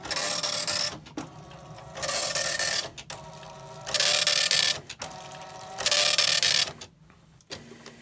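A Commodore printer prints a BASIC program listing in loud bursts of rapid mechanical chatter, several separate printing runs broken by short pauses and carriage shifts.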